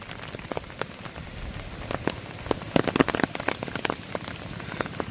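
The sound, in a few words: heavy rain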